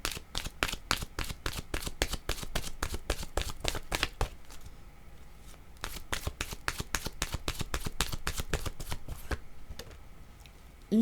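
Oracle cards being shuffled by hand in rapid crisp riffles, a dense rhythmic patter that pauses briefly midway and then resumes.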